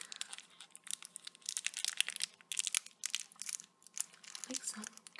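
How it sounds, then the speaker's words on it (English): A candy bar wrapper crinkling up close, with irregular bursts of crisp rustling and crackling. Quiet, with pauses between bursts. "Like some crinkle noises."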